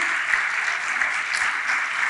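Sustained applause from a church congregation, a dense even clatter of many hands clapping without pause for the whole stretch.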